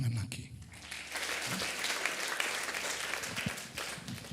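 Church congregation at an anniversary revival service breaking into a sustained, loud round of applause from many hands, with voices and some shouting mixed in over the clapping.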